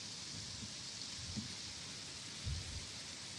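Steady hiss of rain falling, an even wash of noise with a few soft low thumps, moderately quiet and with no voices.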